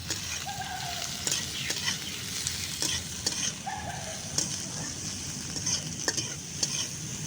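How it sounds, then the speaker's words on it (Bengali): Steady sizzle of onions frying in hot oil, with faint intermittent stirring scrapes and clicks, the frying continuous and moderately quiet throughout. "পেঁয়াজটা এখন গরম তেলের মধ্যে দিয়ে দেব"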